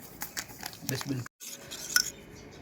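A spoon stirring salt into water in a container, giving short clinking and scraping taps against the sides, fairly close, with a brief pause and a sharper clink near the end; a voice talks over it.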